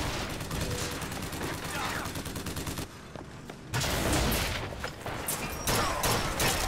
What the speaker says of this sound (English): Shots are being fired, though.